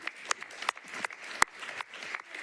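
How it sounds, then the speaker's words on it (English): Applause in a Nashville Metropolitan Council chamber, a scattered group clapping for a few seconds with one sharp close clap standing out among the rest. "I think that deserves a hand clap."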